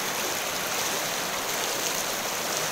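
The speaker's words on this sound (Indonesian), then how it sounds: "dan arusnya begitu deras." Swift river current rushing over slippery rocks near Mantebu, Serui, Papua, a steady broadband wash of flowing water that stays loud and unbroken with no talking.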